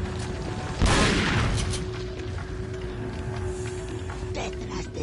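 Heavy gunfire in Resident Evil 4: a loud blast near the start followed by a ringing decay, then scattered softer shots over steady game ambience.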